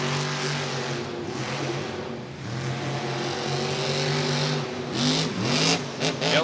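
A monster truck engine roars and revs through a freestyle jump at a Monster Jam event, a loud, sustained drone that drops and then climbs again in sharp revving bursts near the end.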